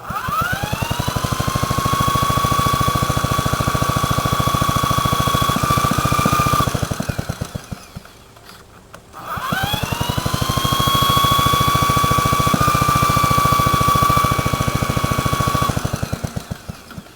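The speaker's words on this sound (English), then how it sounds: "I'll cold start this" A 1950s Bready model BW walk-behind tractor engine cold-starts and runs loud and close with a rapid, steady single-cylinder beat, dies away briefly partway through, then catches again and keeps running.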